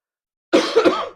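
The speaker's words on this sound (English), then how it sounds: "I still have a cough" A single short cough close to the microphone, breaking into two quick bursts after a moment of silence.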